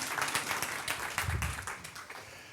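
Audience applause for a speaker at a climate change science talk, a modest patter of clapping from a small crowd, moderately faint, with a brief low thump partway through.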